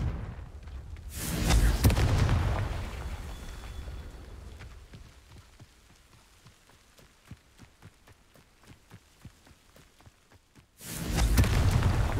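Confringo blasting-spell explosions in the video game Hogwarts Legacy: heavy booming blasts open and close the span, with a rapid series of sharp cracks and thuds in between.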